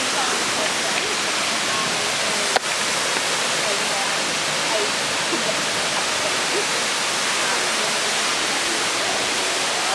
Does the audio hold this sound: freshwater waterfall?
yes